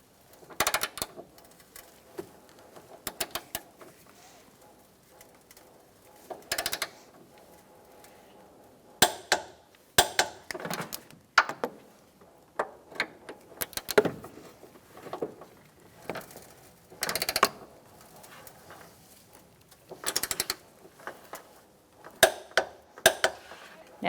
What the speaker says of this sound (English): I'm going to torque my bolts first, and then I'll torque the nuts, all at 80 foot-pounds.